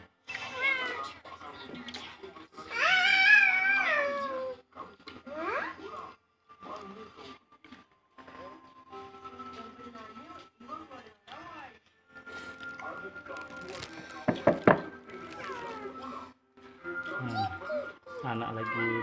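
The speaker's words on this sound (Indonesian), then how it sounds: "Anak lagi main sama kucing." A cat meows repeatedly, some calls drawn out and whiny, while a child plays with it at home; children's voices and chatter mix in among the cries throughout.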